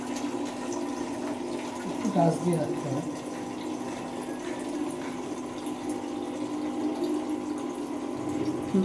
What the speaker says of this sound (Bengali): বাবা মেয়েকে দিল জল ভরার কাজ